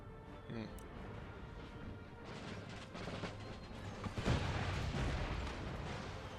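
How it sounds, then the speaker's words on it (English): Mortars and cannon, including a 24-pounder demi-cannon, fire during a Netherlands video game battle: a dense, continuous din of distant booms and crashes, with a sharp, louder blast about two-thirds through. "Mortars are firing out."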